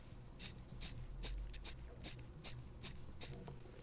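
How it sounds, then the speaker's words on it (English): Crown of a fake Rolex Oyster Perpetual wristwatch being hand-wound close to a microphone, producing faint, regular ratcheting clicks, roughly ten evenly spaced ticks with no talk. "Unscrewing the crown and winding the watch feels cheap and nasty."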